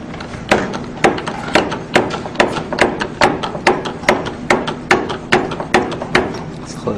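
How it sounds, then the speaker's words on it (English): Casagrande liquid limit device being hand-cranked, the cup lifting and dropping onto its base in a steady series of about fifteen sharp, evenly spaced thuds, close and clear with no talk. "Now we're going to crank the handle and find out how many times it takes to close it down to half an inch."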